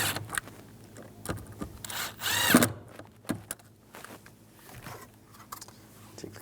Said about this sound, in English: Now, put the screws in right here. And we'll tighten these down.